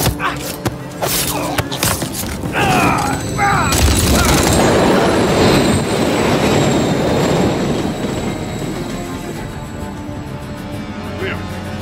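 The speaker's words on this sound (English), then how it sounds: "Another train coming." A train roars past in Call of Duty: Modern Warfare 3, loud and close, with rumbling wagons, metallic clatter and screeching wheels swelling to a sustained roar; gunfire-like bursts and voices are mixed in.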